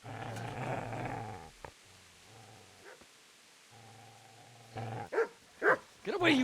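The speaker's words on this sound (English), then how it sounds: "these dogs weren't here before" Dogs in Kingdom Come: Deliverance growl in a sustained, rumbling snarl, then after a quieter stretch break into several sharp, loud barks and yips near the end.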